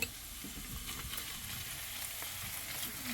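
Tablespoon of minced garlic sizzling in a hot pan for Spam fried rice, a soft steady crackle with faint stirring clicks, fairly quiet and with no talking.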